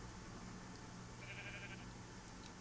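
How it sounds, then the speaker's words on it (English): One sheep bleats in Minecraft, a short bleat in the middle of the clip over a steady hum of background noise, with no talking. "Quite a few sheeps up here."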